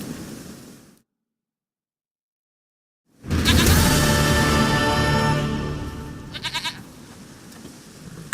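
A goat bleats in The Witcher 3 video game, a loud harmonic bleat after a gap of silence, followed by softer rustling and a few quick clicks, no voices.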